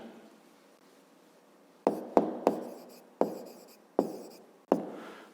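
A pen taps and scratches on paper while math figures are written out, giving six short, close strokes after a quiet start, each a crisp tap with a brief fading scrape.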